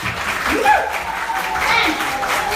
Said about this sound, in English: we need to give a big clap, a big Kenyan clap